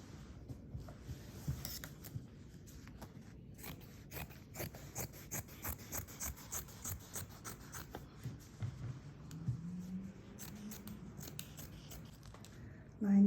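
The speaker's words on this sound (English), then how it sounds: "I got one long piece of fabric and I need to cut it in half, so I have 2 handles." Fabric scissors snipping steadily through a long piece of cloth, cutting it in half for tote bag handles, a quick rhythmic series of close, crisp crunching cuts with brief pauses, quiet and alone.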